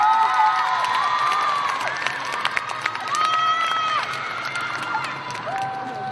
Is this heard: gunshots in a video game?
no